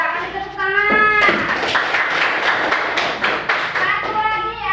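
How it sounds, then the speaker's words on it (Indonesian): Grade 5 pupils clapping in a classroom, a burst of dense, close hand claps lasting a few seconds, with an adult voice speaking just before and after. "Udah, kasih tepuk tangan."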